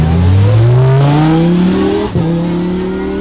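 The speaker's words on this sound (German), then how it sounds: "das ist das Rennauto, was ich auf dem Berg benutze. Das ist ein Lamborghini Hooper Huracan Super Trofeo." A Lamborghini Huracan Super Trofeo race car with a 620 hp V10 revs loudly up through its range, a brief dip mid-rise as it shifts, then climbs again, close and alone without talk.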